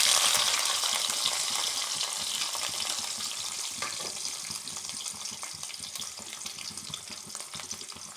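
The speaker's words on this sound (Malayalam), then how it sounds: "ഒന്ന് മൂത്ത് വരട്ടെ. നല്ലപോലെ ഉള്ളി മുളകൊക്കെ മൂത്ത് വന്നിട്ടുണ്ട്." Garlic, onion and green chilli with mustard seeds sizzle and crackle steadily in hot oil for a horse gram thoran, a close, continuous frying hiss with occasional stirring, easing slightly over time.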